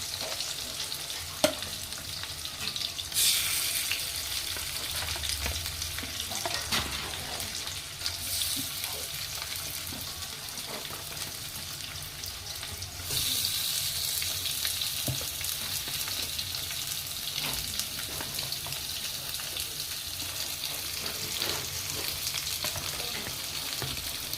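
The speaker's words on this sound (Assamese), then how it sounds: "আৰু এতিয়া মই কাঢ়াকৈ ভাজি ল'ম মাছটো" Steady, loud sizzling of fish frying in hot oil, continuous throughout with occasional stirring and scraping in the pan, no voices.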